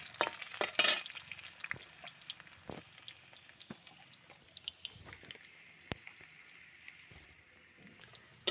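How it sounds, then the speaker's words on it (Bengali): Potatoes frying in oil with cumin seeds make a low, steady sizzle, with sharp clatters and crackles of stirring near the start and scattered spits and taps throughout, fairly quiet and with no voices. "তারপর জিরে দিয়ে আলুটা লাল লাল করে ভেজে নিল"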